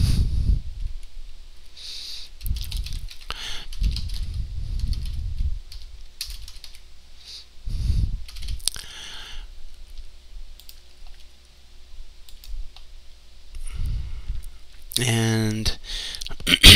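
Keystrokes on a computer keyboard come in scattered short runs, with a faster clicking burst near the end, heard close alongside some low rustling and intermittent talk.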